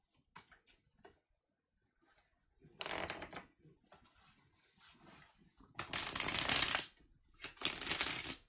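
Bursts of tarot card shuffling come in several rustling runs, the last two longer and louder, with quieter flicks and taps in between.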